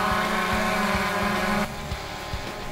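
A quadcopter drone hovers close by with a steady, loud, high-pitched motor whine, then throttles down as it sets down, leaving a lower, quieter hum.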